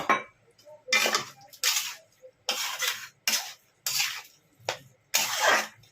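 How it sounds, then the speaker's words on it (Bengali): A bowl that held potato and jackfruit is rinsed and filled with water in a home kitchen: separate bursts of splashing and clinking dishware, each lasting a second or less, with short quiet gaps between. "যে বাটিতে আমার আলু আর এঁচড় ছিল, সেটা ধুয়ে আমি একটু জল দিয়ে দিচ্ছি"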